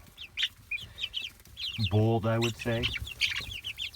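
Baby chicks peck at their feed while making high chirps, and a louder clucking call rises in the middle. A person talks briefly among the peeping birds.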